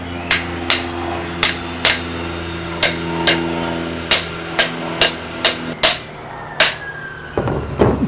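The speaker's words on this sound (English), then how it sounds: "Man, I gotta take a hammer." About a dozen sharp metallic hammer blows ring out against a tie rod on a Toyota Corolla, evenly spaced and close, each with a short ringing decay, before a quieter shuffle at the end.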